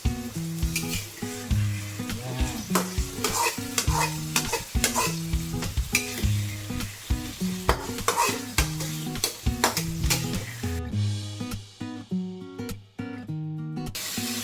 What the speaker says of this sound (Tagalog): medyo prito muna natin itong manok natin